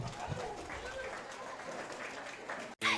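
Audience applause rings out at a rabbit and poultry show at a county fair, a dense, steady patter of many hands with some talk mixed in, cut off briefly near the end.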